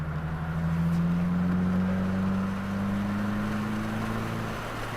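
A 2022 Subaru WRX at a Waterford Hills open track day accelerates steadily, its engine note rising in pitch over several seconds then easing slightly, heard as a constant in-car drone with road and wind noise.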